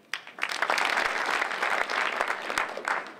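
An audience at a political speaking event claps in a dense, sustained round of applause with distinct sharp hand claps standing out, moderately distant and fairly quiet overall, rising quickly and fading slightly at the end.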